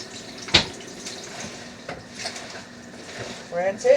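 Running water from a kitchen tap rinses a couple of handfuls of leafy greens for lasagna, a soft, steady splashing close by with a few brief knocks and rustles, and a voice speaking near the end.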